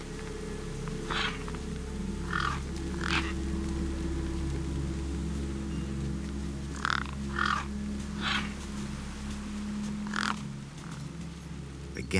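Crows caw in short, separate bursts over a steady low drone in the video game Beyond a Steel Sky, a handful of calls spaced across the stretch, clear and moderately close.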